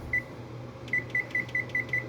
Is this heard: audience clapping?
no